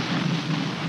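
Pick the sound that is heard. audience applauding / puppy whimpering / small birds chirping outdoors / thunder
thunder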